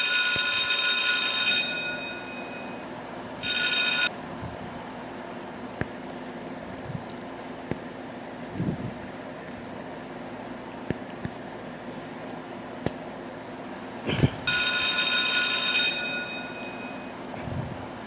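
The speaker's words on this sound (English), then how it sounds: "your phone rings" A telephone ringing in bursts, three loud electronic rings separated by long quiet gaps, with faint background sounds between them.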